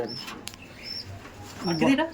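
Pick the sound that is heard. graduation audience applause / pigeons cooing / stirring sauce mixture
pigeons cooing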